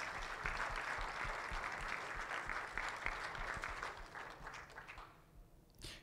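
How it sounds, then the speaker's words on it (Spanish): Steady crowd applause for graduates at a certification ceremony, a continuous dense clapping that fades out near the end before a final burst. "Por favor, un fuerte aplauso."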